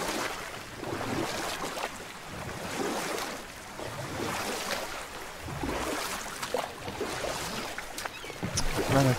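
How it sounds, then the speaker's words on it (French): Boat gliding across open water in God of War, Midgard near the Landsudr mines, with a steady wash of waves and wind throughout, no talk. "Toute la traversée, on va faire en bateau."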